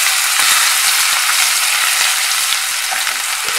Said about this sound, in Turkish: Yağımız ısındıktan sonra küp küp doğradığım havuçları atıyorum.